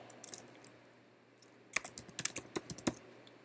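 Computer keyboard keys typed in a quiet room while entering server details in software: a few sparse taps, then a quick burst of about a dozen crisp clicks near the end, close and fairly soft.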